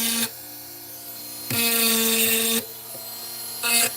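A Dremel rotary tool shaping a curve whines at high pitch in close bursts, pausing between passes and returning in a longer grinding run before a short final burst.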